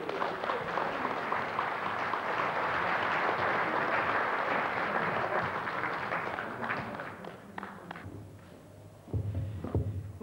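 Clapping from the audience at a 1996 association general assembly in Bagnères-de-Bigorre, a broad, sustained round of applause that gradually fades, followed by a few scattered thuds and footsteps.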